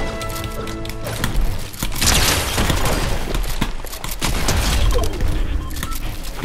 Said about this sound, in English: There's another guy shooting.